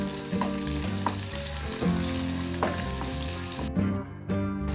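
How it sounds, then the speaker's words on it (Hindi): Chopped onion softening in a pan with ginger and garlic, a steady close sizzle with faint scraping stir clicks throughout and no voices. "प्याज को हल्का सॉफ्ट होने तक हम भून लेंगे।"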